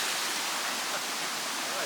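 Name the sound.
waterfall at Turure Watersteps, Cumaca Falls, Trinidad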